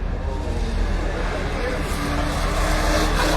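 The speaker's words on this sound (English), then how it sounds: "that Volkswagen Beetle is sideways" Race car engine noise from a Volkswagen Beetle sliding sideways on a circuit at Hallett, a steady loud roar with broadband rumble and no clear tire screech standing out.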